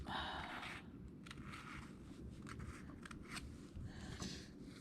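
Quiet snipping and rustling as scissors cut out paper Christmas gift tags in short irregular strokes over a low background hum.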